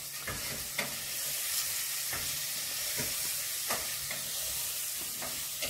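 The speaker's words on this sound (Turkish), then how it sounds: "Bu arada bunu karıştıralım." A batter of flour and a pinch of salt stirred with a spoon in a bowl, a steady scraping texture with soft periodic clicks of the utensil against the side, close and alone.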